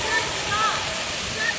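Floodwater rushes through a creek in the sertão of Paraíba, Brazil, a steady, loud broadband roar of churning water that fills the whole stretch without pause.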